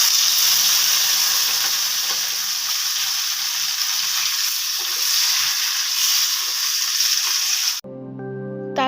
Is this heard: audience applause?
no